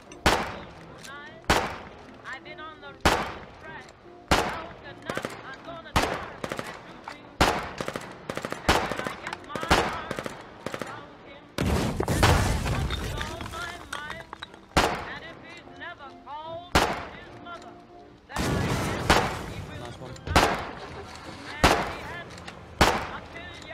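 Video game gunfire aimed at vehicles on a road during a bridge battle, sharp repeated shots and bursts at a regular rhythm, loud and close, with a dense volley in the middle and voices talking between.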